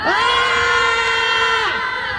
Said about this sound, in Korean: 둘, 셋 하면 함성 한번 크게 한번 지르고 시작하도록 하겠습니다.